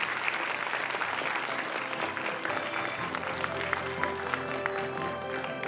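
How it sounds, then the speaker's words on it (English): An audience at a prize laureate lecture applauding, steady dense clapping from many hands for about six seconds, moderately distant and even throughout. "Let's give him another warm round of applause."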